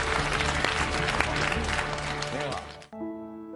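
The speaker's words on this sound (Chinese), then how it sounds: "让我们用热烈的掌声欢迎他" Studio audience applauding to welcome a guest onto a television talk show, dense sustained clapping that fades out, followed by a short musical chord.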